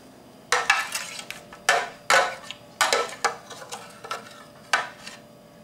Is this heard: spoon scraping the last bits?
yes